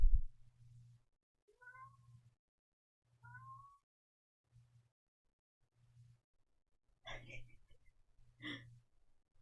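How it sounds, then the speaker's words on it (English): A cat meows several times, rising short calls spaced a few seconds apart, then two louder, longer meows near the end, all close over a low steady hum. "Big meows."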